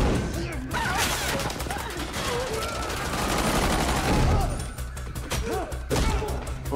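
Gunshots and chaotic action audio from the TV show Stranger Things, a loud, busy mix of repeated bangs, crashes and thuds with voices and music underneath.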